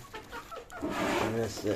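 Chickens cluck and fuss near feed on a farm where quail are also kept, a busy run of close clucks with a voice talking over part of it.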